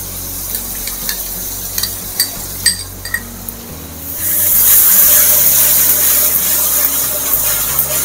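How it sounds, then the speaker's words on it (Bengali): A spice masala with sour yogurt is stirred and fried in a pan, with scattered spoon scrapes and clinks at first, then a loud, steady sizzle rising as the yogurt hits the hot oil. "এবার টক দইটা দিয়ে আবার কিছুক্ষণ কষাবো।"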